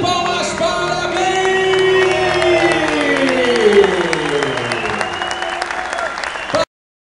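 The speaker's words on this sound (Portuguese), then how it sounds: "Uma salva de palmas para mim!" A crowd at the Imagine Cup 2011 Brazil award ceremony claps and whoops loudly, the applause running steadily with shouts mixed in under music, then cutting off abruptly near the end.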